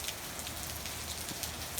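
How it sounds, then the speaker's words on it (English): Heavy rain pouring down at a farmhouse near Chico, California, during a storm; a dense, steady hiss of rain on surfaces, continuous and close, with no voices. "So pouring rain again."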